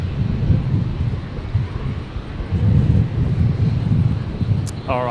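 Rex airliner on final approach at Brisbane Airport, a steady low rumble of jet or turboprop engine noise sustained throughout at moderate distance, with wind buffeting and a brief electronic chirp near the end.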